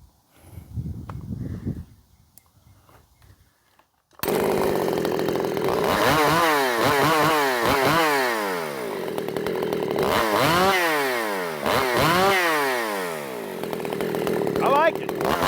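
A ported Jonsered 625 II chainsaw rips into oak, starting after a moment of quiet and a brief voice. It then holds a loud, close, steady high-revving snarl, with repeated rising and falling pitch sweeps as the chain bites and frees.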